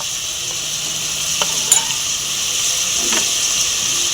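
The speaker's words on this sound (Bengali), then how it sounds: "দিয়ে ভালো করে মশলাটাকে কষতে হবে যাতে না পুড়ে যায়, তাই একটু জল দিয়েছিলাম।" Masala spices with a splash of water being stirred and sautéed in a pan while cooking rui posto, a steady soft sizzle and hiss with a couple of brief clinks from utensils.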